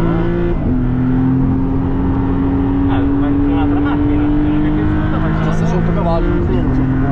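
A Maserati MC20 in wet mode on the Imola circuit, its engine droning steadily and slowly climbing in pitch before a brief drop, with people talking over it.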